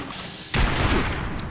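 Gunfire in Fallout 76, a sudden loud burst that opens into a sustained rumbling roar of shots, alone without talk.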